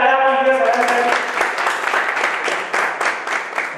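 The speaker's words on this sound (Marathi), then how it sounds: "एकदा जोरदार टाळ्या वाजवूया सगळ्यांसाठी" An audience bursts into loud, sustained applause at a social community event on a stage. A voice sounds briefly at the start, then dense clapping fills the rest.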